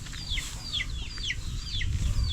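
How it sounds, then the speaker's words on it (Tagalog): Chickens on a backyard farm call repeatedly in short descending squawks against a steady rumbling background, with the clucking and crowing of roosters among the flock. "mga tandang ito ha, mapalong."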